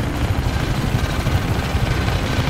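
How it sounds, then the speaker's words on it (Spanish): Helicopter in the video game Just Cause 3 attacking the player, a steady low rotor and engine drone filling the scene at constant loudness with no talk. "A ver, que me está disparando un helicóptero."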